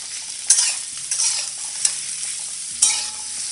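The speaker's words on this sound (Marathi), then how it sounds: "आपण बटाटे चांगले परतून घेऊया. थोडे स्मॅश करून घेऊया" Potatoes are sautéed in a pan and pressed down, giving a steady loud sizzle broken by about four sharp scraping knocks of a spatula, with no speech.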